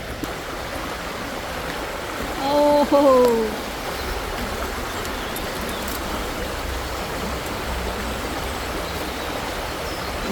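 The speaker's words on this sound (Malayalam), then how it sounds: "ഇതിന്റെ ഇടയ്ക്കൂടെ ആ വെള്ളം ഒഴുകുന്നവിടെ കണ്ടു കഴിഞ്ഞാൽ ഉണ്ടല്ലോ" Water of a stream flowing between trees makes a steady, even rushing wash throughout, with a brief exclamation from a voice partway through.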